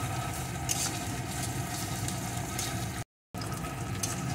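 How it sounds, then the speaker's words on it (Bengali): Slit green chillies frying in hot oil, a dense continuous sizzle and crackle close to the pan, steady throughout apart from a brief cut to silence. "এখন চেরা কাঁচা লঙ্কাগুলোকে দিয়ে দেব। লঙ্কাটাও ভেজে নেব।"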